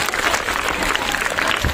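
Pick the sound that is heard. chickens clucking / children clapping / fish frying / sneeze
children clapping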